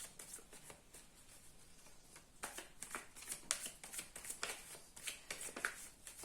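Tarot cards are shuffled before a Lenormand reading, a continuous close sequence of soft riffles and slaps repeating through the whole stretch. It is quiet and has no talking.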